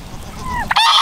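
Cayuga ducks on a farm give a short, loud nasal honk, a single close call rising in pitch at the end of a brief burst.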